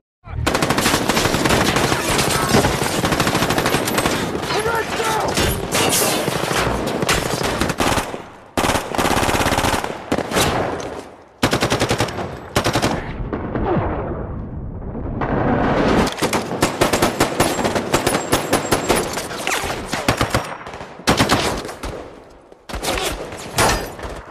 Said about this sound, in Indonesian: Disinilah aksi tembak-tembakan terjadi.